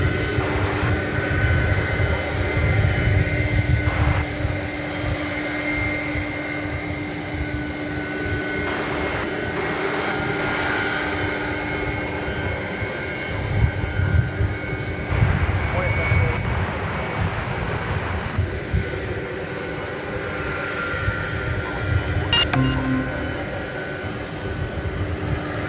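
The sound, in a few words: airplane taking off down airport runway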